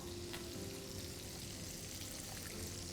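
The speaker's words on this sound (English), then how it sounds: "Also add in some water." Water poured into a pan of curd-based fish gravy (doi maach), a steady soft splashing hiss with faint sizzling throughout, close and continuous.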